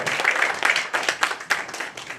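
Audience applause at a Korean awards ceremony and year-end gala, with uneven bursts of clapping from a modest crowd that rise and dip over a couple of seconds.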